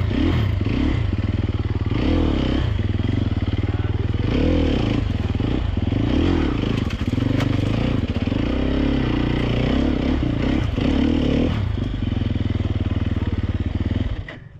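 A Sherco 300 SEF Factory dirt bike engine runs close and loud throughout, with a steady idle broken by uneven blips of throttle, then cuts off abruptly at the very end.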